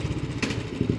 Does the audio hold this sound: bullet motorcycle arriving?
yes